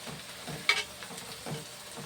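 Food frying in about 100 grams of oil for Telugu sorapittu, a soft steady sizzle close by with a faint stirring clink partway through, no voices.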